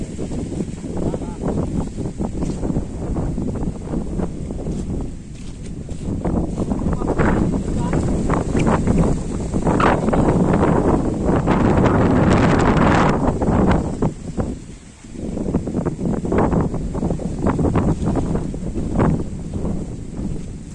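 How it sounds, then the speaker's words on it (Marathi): Strong outdoor wind buffets the microphone in broad roaring gusts that swell and dip across the whole stretch, loud and close, near mushroom-foraging grounds. "जोरदार हवा सुटले, त्याच्यामुळे आवाज पण येत नाही बघा."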